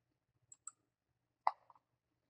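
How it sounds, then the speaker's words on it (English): A few sharp mouse clicks on a computer, very close and quiet, spaced irregularly over a near-silent background. "I can click one more time on it."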